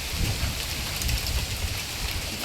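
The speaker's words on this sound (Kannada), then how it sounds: "ಮಳಿ ಜೋರು ಬಂತು." Heavy rain pours down in a windy village storm, a dense, unbroken roar of drops close by that holds steady throughout with no one speaking.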